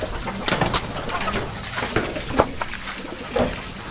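Domestic pigeon cooing softly inside a fragile old loft, a few short low coos spread across the moment amid rustling and faint background noise.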